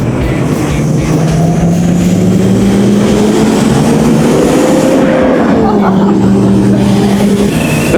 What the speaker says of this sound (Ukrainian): так це поїздку на криші автомобіля в горах